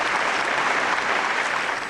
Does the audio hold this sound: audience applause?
yes